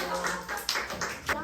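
Children at an elementary church worship service clap in a short, loosely rhythmic run of a few quick, soft claps heard close by.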